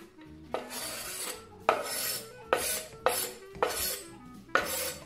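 A spoon works aloo tikki mixture around a bowl in about six rhythmic scraping strokes, each a gritty, rasping sweep against the bowl, close and steady with no voices.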